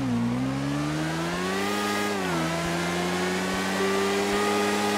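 A BMW S1000RR superbike in a racing game screams up through its gears, a steady loud whine rising in pitch with brief dips at each shift, running stock with no modifications.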